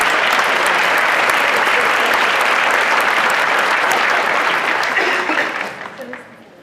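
Loud, dense audience applause at a high school underclassmen awards ceremony, many hands clapping steadily close by before fading away near the end.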